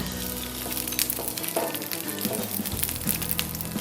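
Ginger dropped into hot coconut oil for a prawn dish, a close crackling sizzle that flares and settles, with light stirring scrapes and no talk.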